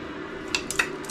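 Metal camping cookware for a kettle and stove set clinks softly as the pieces are nested together, a few light scattered taps and chimes over a quiet steady background hum.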